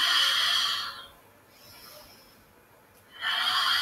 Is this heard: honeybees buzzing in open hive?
no